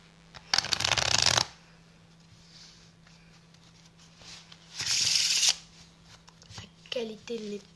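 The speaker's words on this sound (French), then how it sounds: "maintenant que j'ai bien mélangé le jeu" A deck of playing cards shuffled in two quick riffle bursts a few seconds apart, crisp and close, with light handling noises and a brief voice near the end.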